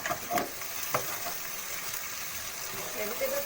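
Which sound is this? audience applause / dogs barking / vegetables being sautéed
vegetables being sautéed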